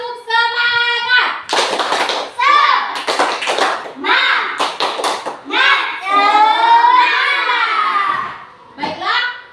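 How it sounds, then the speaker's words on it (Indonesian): Children at school do a rhythmic tepuk semangat clapping chant, sharp hand claps in patterned bursts mixed with loud sung and shouted children's voices, close and energetic throughout. "Untuk lebih semangat lagi, kita tepuk tangan 1 kali lagi."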